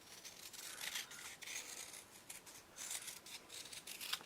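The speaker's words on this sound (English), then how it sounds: "Make a couple of leaves. And I'm just going to rough cut these so quick." Scissors rough-cutting a couple of leaf shapes for a Dresden art block, giving quick continuous snipping and rustling close by with no talk.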